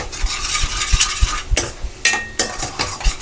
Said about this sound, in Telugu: ఈ గరం మసాలా ఈ కారం సాల్ట్ అన్నీ వేసాక ఒక 2 నిమిషాలు అలా కలపండి